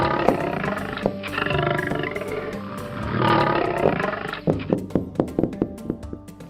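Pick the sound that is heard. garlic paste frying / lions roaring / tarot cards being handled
lions roaring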